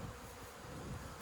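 Bees fly around a hive during robbing prevention after a split, giving a faint, steady buzzing hum that runs unbroken and fairly distant for the whole moment, with no voices.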